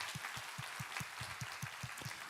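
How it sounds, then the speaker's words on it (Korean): A church congregation applauds during a Sunday worship service, with a steady, rhythmic run of fairly faint claps blending into a soft wash of room noise. "우리 하나님께 감사와 영광의 박수 올려드리겠습니다"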